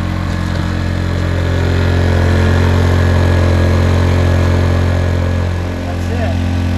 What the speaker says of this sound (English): once that engine stabilizes, turn the little multi-switch from choke to run.